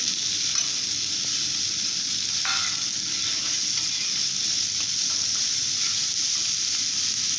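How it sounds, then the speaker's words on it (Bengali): Cut potatoes fry in hot oil with bay leaf for a mourola fish dish, giving a steady, even sizzle throughout with a few faint stirring clicks, close and without talk. "এবার কেটে রাখা আলুগুলো দিয়ে দিচ্ছি"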